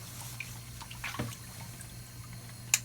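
Endoscope flushing machine pushing water through a scope during reprocessing, faint dripping and trickling over a low steady pump hum, with a sharp click near the end.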